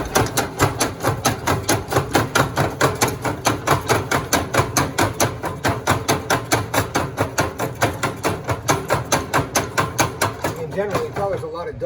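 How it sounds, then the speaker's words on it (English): The grates of a hand-fired coal stove are shaken in a fast, steady rattling rhythm of metallic clanks that goes on throughout, loud and close, with a voice talking at times. "I shake my grates until I have some red coals coming out in the bottom"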